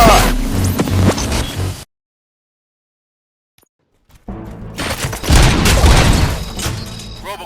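Gunfire crackles in the video game Robocop Rogue City, with bursts of loud shots and booms, then a stretch of near silence before heavy firing resumes in dense, rapid volleys.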